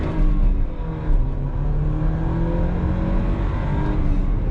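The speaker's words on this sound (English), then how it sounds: "We're gonna get on this thing a little bit right here and see what this 250 horsepower is really all about out of this all-wheel drive Audi" Engine note of a 250-horsepower all-wheel-drive 2017 Audi A4 manual sedan accelerating hard, a loud continuous rising drone with harmonics climbing through the gears, heard up close from inside the cabin with no talking.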